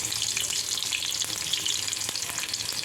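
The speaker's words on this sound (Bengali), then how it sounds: "আমি কড়াইয়ের মধ্যে তেল ঢেলে নিয়েছি। এখন এটার মধ্যে আমি দিয়ে দেব রসুন কুচি" Chopped garlic sizzles and crackles in hot oil in a wok, a dense, bright, steady frying hiss with small pops throughout, close and loud, with no talking.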